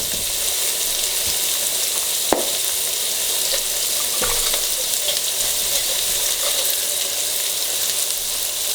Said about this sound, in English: right now we just want to sweat these vegetables, get the process going